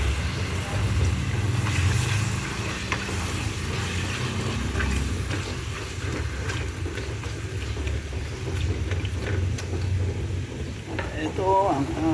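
Chicken meat sizzling and frying in a pan, a constant hiss with occasional scraping and stirring sounds, and faint voices in the background.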